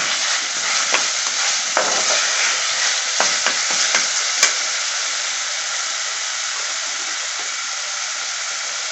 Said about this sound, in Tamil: நல்லா கலந்து விட்டுருங்க.